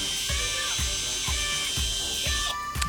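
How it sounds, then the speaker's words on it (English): A drill bit spinning inside a powder-coated metal toolbox to clean out burrs and debris, giving a steady whirring hum with a regular pulsing rhythm, close and fairly loud with no talk. "clean out the inside of it with a drill bit"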